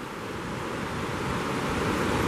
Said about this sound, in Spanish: Esta es la cascada Los Castaños.